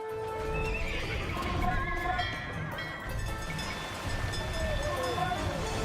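Horses neigh and whinny repeatedly over clip-clopping hooves in an Alexander campaign strategy video game, with loud, close calls layered over steady trampling and no talk.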